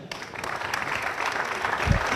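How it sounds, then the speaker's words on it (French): Audience applause at a political group's second-anniversary gathering, a steady, moderately loud patter of many hands that holds for a couple of seconds and swells slightly toward the end. "Applaudissons très fort, ne soyez pas si avare que ça."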